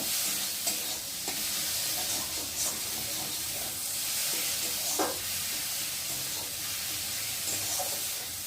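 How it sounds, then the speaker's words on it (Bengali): Potatoes fry in a pan while Maggi noodles are being made, with a continuous hissing sizzle and occasional stirring knocks throughout, close and fairly loud, without talk. "তো দেখো ভালোই ভাজা হয়ে গেছে, আর আলুটা অনেকটাই সেদ্ধ হয়ে গেছে"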